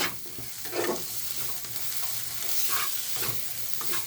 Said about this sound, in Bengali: মশলাগুলো আমি এবারে পেঁয়াজ কালি আর কড়াইটা যে রেখেছিলাম কেটে ওটা দিয়ে দিলাম দিয়ে একটু নাড়াচাড়া করে নেব